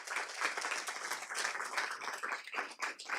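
Audience applause greets a researcher introduced at a panel talk on the IMF agreement, individual claps crisp and fairly near, swelling and thinning in uneven waves across the hall.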